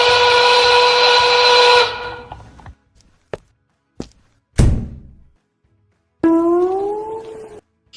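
An animated train whistle blows a loud, sustained multi-tone blast, followed by a few sharp thumps and a thud, then a second whistle with a rising, sliding pitch.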